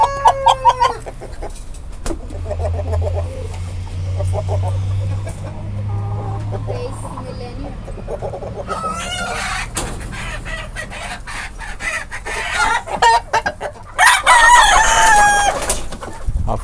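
Porcelain bearded bantam chickens clucking and crowing close by, with sharp calls at the start and a busy burst of cackles near the end, while someone speaks at intervals.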